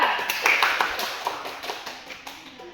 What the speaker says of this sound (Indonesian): Beri tepuk tangan untuk Helisa.